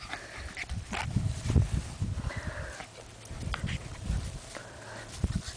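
Labrador puppies gnaw and scrape at a water dish at close range, with irregular clattering knocks, small scuffles and a few soft whimpers.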